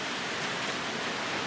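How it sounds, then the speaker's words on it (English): Steady rain falling outside on a wet day, a continuous dense hiss with no breaks and no voices, filling the space evenly at moderate loudness. "It's a pretty rainy day here today"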